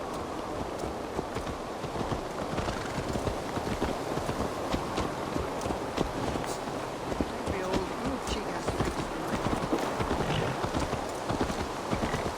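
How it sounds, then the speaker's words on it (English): Horse hooves gallop in a steady, rapid clip-clop throughout a ride in the video game Assassin's Creed Valhalla, fairly loud and continuous with a faint buzzing ambience behind. "Let's return the horse."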